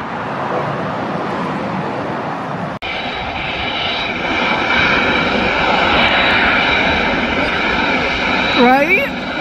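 Emirates airliner departing LAX, a loud sustained engine roar that swells as it climbs out, with people talking nearby over the rumble.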